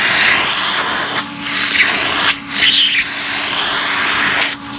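A carpet extractor pulls a coffee stain out of carpet with a loud, continuous suction roar and hiss, broken by three brief dips as the wand is lifted and passed again.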